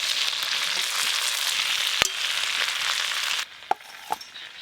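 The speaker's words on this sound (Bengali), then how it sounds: "এই চিংড়ি মাছগুলো ভাজা হয়ে গেল" Shrimp fry in mustard oil with a loud, dense, steady sizzle that drops off sharply near the end, broken by a few sharp clicks of a utensil against the pan.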